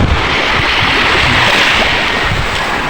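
Steady, loud roar of sea surf washing onto a white-sand beach, continuous rushing noise with wind buffeting the microphone, no voices.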